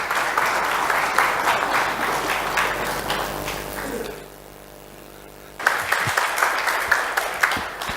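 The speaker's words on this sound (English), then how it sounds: "Can we have a huge round of applause for him" An audience at a general meeting and conference bursts into sustained applause, a dense wash of clapping that thins to a lull before flaring up loudly again.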